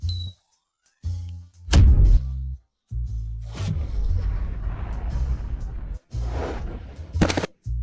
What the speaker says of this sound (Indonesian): Rasakan tembakan dari Nyonya.